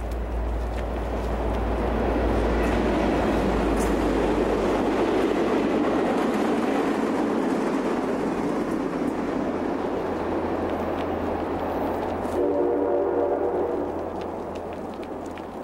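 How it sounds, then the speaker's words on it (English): A push-pull commuter train bound for Washington rolls past along a canal park, a sustained loud rumble with deep low roar and faint rail clatter, holding steady before easing off at the end. "Another push-pull commuter train"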